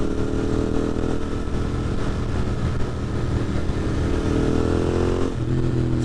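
A Royal Enfield Interceptor with an 865 big bore kit and free-flowing headers into Enfield Precision end cans rumbles loudly while riding, a steady deep twin-cylinder drone with slight pitch shifts near the end.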